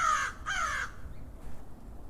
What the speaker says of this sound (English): like up close audio like that of crows